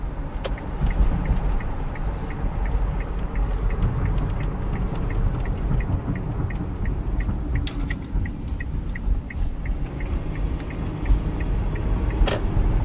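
A 2012 Kia Sorento SX AWD driving at night gives a steady, continuous road and engine hum with tire noise. A faint regular ticking, like a turn signal, runs through it, with no talk.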